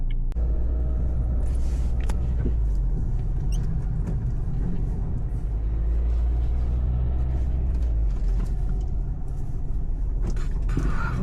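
A car drives along a city street on an errand, with a steady low engine and road rumble holding throughout and faint traffic noises above it, no talk.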